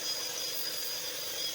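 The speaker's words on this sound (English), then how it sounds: "Then I just used a wire brush on the drill to scrub them all clean." Wire brush spun by a drill scrubbing bark and dirt off cherry burls, a steady broadband hissing scrape that runs continuously and evenly throughout, fairly loud and close, with no talk.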